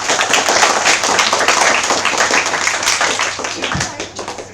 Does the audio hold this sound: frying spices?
no